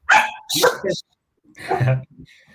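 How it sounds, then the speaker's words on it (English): A dog barks several times in quick, loud bursts close by, with a short pause before a final bark, and no other voices in between. "Sorry, that's my dog."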